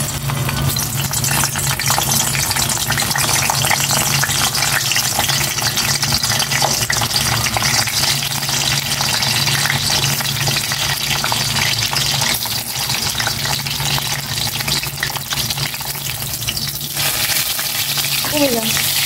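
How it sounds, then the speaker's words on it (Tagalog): Eggplant fries in cooking oil with a dense, constant, loud crackling hiss that fills the whole stretch close up, with faint household sounds beneath and no clear voices. "Iprito ko na itong talong."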